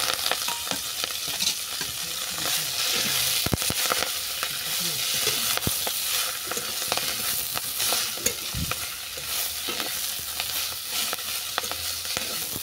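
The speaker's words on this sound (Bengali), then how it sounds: "মেথি শাকটাকেও আমি ভালো করে ভেজে নেব।" Fenugreek leaves sizzle steadily in hot oil in a pan with garlic and black cumin, a loud continuous frying hiss punctuated by repeated stirring scrapes throughout.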